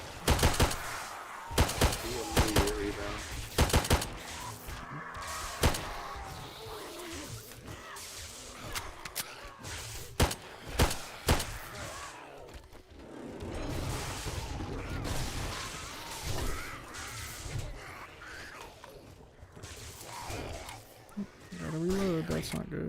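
Gunfire against zombie hordes in 7 Days to Die with an EFT overhaul mod: sharp, loud shots in scattered bursts and single cracks, some rapid clusters, running under a man's near-constant talking.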